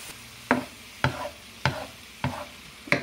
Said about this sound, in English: That spinach really cooks down, huh?